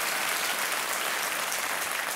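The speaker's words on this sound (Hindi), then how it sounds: "तालियों के साथ हम आपका अभिनंदन करते हैं।" Studio audience applause for a winning contestant on a televised quiz show, loud, dense clapping sustained evenly from start to finish without any voices.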